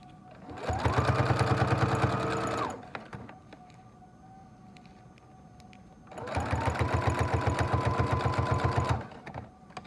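Sewing machine stitching a clear plastic face mask runs in two steady whirring bursts of about two and four seconds each, close and loud, with a quiet pause between them.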